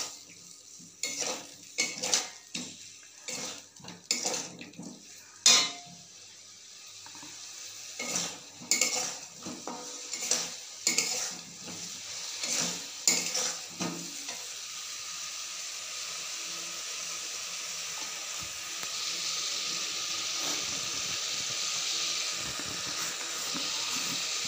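Masala being stir-fried in a pan, with repeated close scrapes and clinks of a spoon against the metal for the first half, then a steady soft sizzle running on alone.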